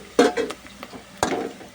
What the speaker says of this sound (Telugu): ఉల్లిపాయ పచ్చిమిరపకాయ ఫ్రై అయిపోయాక